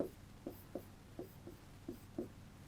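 Chalk or marker scratching on a classroom board, a short stroke roughly every third of a second in uneven bursts, close and fairly quiet with no voices.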